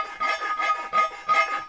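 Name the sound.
filing metal casting with a circular file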